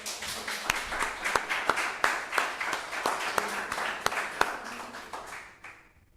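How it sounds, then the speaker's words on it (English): An audience claps for volunteers at an eco week event on Elafonisos, producing a loose burst of applause with sharp individual claps that thins out and fades away toward the end. "a little applause to them."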